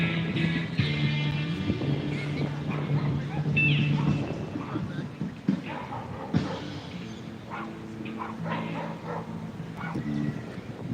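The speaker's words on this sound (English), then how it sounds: "Oh, so there's the sniffer dogs." Drug-detection sniffer dogs in a city park yip and whimper now and then beneath steady crowd chatter, traffic and outdoor bustle.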